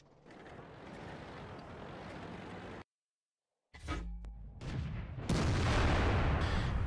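Artillery fire from a 105 LeFH18B2 self-propelled gun in World of Tanks: a gust-filled rumble, a sudden drop to silence, then a sharp report followed by loud, sustained blast noise and wind.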